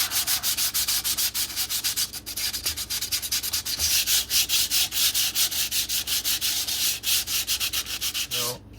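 Steady rhythmic rasping of sandpaper rubbed back and forth on wood, close and loud, continuing without pause.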